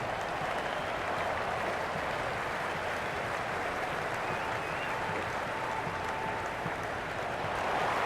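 In the cricket video game Cricket 26, a stadium crowd cheers and applauds without a break throughout, a dense and loud roar of many voices and clapping that swells slightly toward the end.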